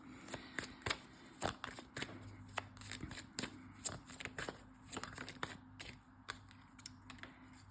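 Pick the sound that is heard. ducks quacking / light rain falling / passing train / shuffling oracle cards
shuffling oracle cards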